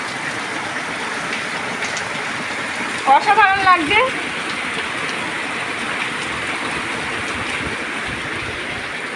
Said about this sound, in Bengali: মানে ভালোই জোরে নেমেছে, হট করে জোরেই নেমে গেছে